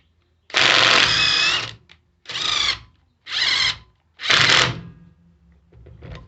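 A Ryobi 18 volt half-inch impact wrench in automatic mode fires four short hammering bursts separated by pauses, each cutting off abruptly as the fastener tightens, close and loud.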